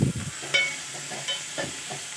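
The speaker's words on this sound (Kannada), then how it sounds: "ಚೆನ್ನಾಗಿ ಮಾಡಿ ಇದನ್ನು ಫ್ರೈ ಮಾಡ್ಕೊಳ್ಳೋಣ" Onions frying in a pan for tondekai palya, a soft steady sizzle with a few scraping stirs, fairly quiet and close with no voices.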